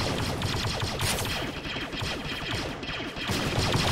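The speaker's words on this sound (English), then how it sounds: "Oh, we're getting shots. Shots fired." Dense, rapid gunfire fills an online military game operation as shots come from a mountaintop, with bursts cracking continuously and loudly, overlapping with no pause.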